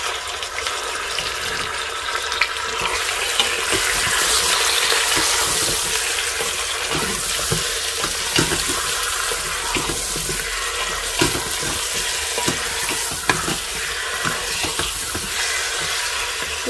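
Chicken pieces frying in a pan give off a steady, dense sizzle and hiss that runs throughout at close range, with occasional clinks and stirring sounds and no voices.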